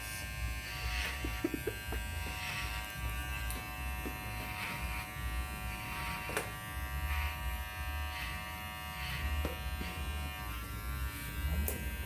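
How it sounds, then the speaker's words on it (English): Electric hair clippers make a close, steady buzzing hum as they cut hair into a straight bob line below the chin, running continuously with slight variations as they pass through the hair. "just do a nice straight cut, clipper closed"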